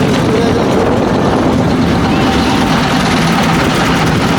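A trawler boat's engine drones steadily and loudly throughout while crossing the Padma river, a continuous low rumble with broad wind and water noise layered over it.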